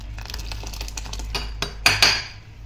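A pressure cooker and dishes being washed and scrubbed, with clinks and scraping metal knocks building to two sharp clatters near the end, close and fairly loud.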